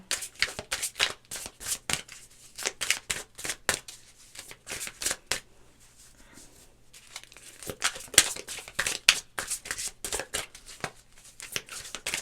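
Tarot cards being shuffled in repeated bursts of crisp riffling and slapping, fairly close and moderately loud, with brief quiet pauses between rounds and no talk.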